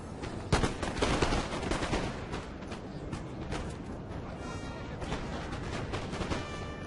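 Massed musket volleys crackle in a dense, continuous stream during an online 2v2 battle in Napoleon: Total War, with sharper near shots early on over a constant distant rumble of battle and no talking.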